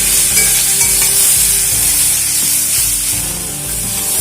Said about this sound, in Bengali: টমেটো দেওয়ার পর আরও 2 মিনিট আমি এটাকে নাড়াচাড়া করে একটু ভেজে নিলাম।